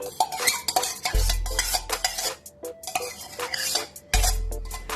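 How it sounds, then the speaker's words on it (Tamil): Curd is stirred into cucumber pachadi in a bowl with a spoon, giving repeated close scraping and clinking of metal against the bowl, with two heavier knocks. "தயிர் சேர்த்து நல்லா கிண்டி விட்டுக்கிடுவோம்."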